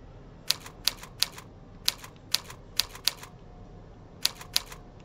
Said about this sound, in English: Lesson number 13 is typing letter A using your pinky.